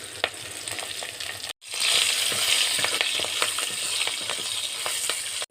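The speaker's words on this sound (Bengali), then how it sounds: "কড়াইতে পরিমাণ মতন তেল, একটু পাঁচফোড়ন, তেজপাতা, ঝাল, তো শুকনো ঝাল" Five-spice, bay leaf and dried chili hit hot oil in a kadai with a loud, steady hiss and sizzle, broken by a brief silent gap, with small crackles and pops scattered through.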